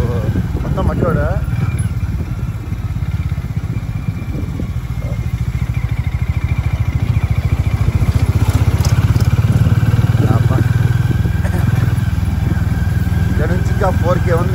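Four motorbikes ride along a dusty dirt track near Kanigiri Dam, their engines a steady, close mid-pitched drone that swells slightly toward the end, with rattling and clatter throughout.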